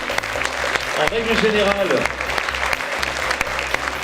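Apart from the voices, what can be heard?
applause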